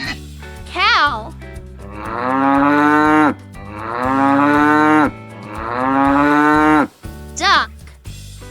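A cow gives three long, loud, drawn-out moos, each rising and sustained for over a second, close and clear over a soft musical bed with brief chirpy effects between.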